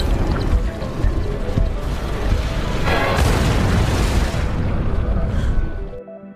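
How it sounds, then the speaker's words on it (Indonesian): A bomb blast in a film: a dense, loud, continuous roar of rumbling, crackling noise sustained for several seconds, with a brighter surge midway, then cutting off abruptly near the end. "langsung mengorbankan dirinya dengan meledakkan sebuah bom bersama makhluk hitam sebelumnya"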